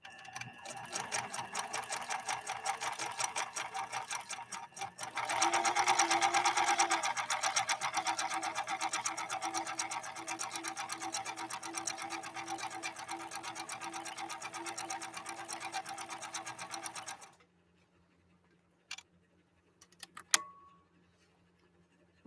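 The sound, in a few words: PFAFF 1222 sewing machine stitching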